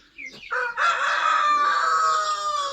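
A single rooster crows close up, a long drawn-out call after a brief rising start, loud and alone.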